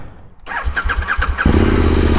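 A 2021 KTM Super Adventure S fitted with an Arrow Sonora exhaust cranks over with a few rhythmic starter pulses, then catches and settles into a loud, close, steady idle.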